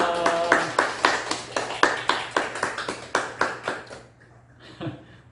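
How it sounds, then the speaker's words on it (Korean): A small church congregation claps to welcome a newcomer. About fifteen distinct claps come in a steady rhythm, then stop, and a brief spoken word follows. "박수로 환영하겠습니다"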